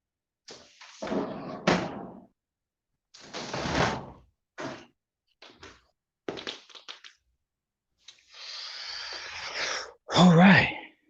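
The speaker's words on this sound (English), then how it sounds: "Let me close my door." A door being shut indoors, with a few short thumps and scrapes spread through the clip. There is a louder closing knock near the end, and there is no speech over it.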